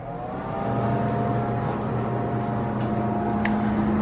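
A custom-built blower pulling dust collection for a router table runs with a steady, loud motor drone and a whooshing airflow, carrying a constant hum that does not change through the clip.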